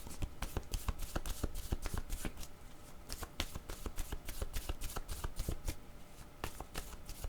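Tarot cards are shuffled by hand up close, a rapid run of crisp riffling snaps and soft slaps that continues steadily and alone.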